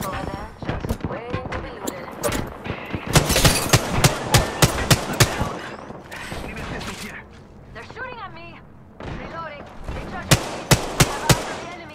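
Gunfire from R99 and R301 weapons in the video game Apex Legends: loud rapid bursts of shots and sharp single cracks repeating over twelve seconds, with voices talking over the action.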